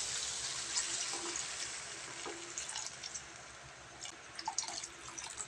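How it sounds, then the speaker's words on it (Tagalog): Water poured into a cooking pot of beef tendon with onion, ginger and bell pepper, a faint bubbling, dripping splash over a soft sizzle, quiet and close, no voices. "Maglagay din tayo ng tubig."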